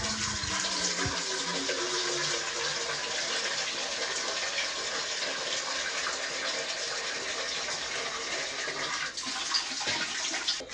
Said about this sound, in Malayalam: പാത്രത്തിൽ എത്രത്തോളം വെള്ളം എടുത്തിട്ടുണ്ട്.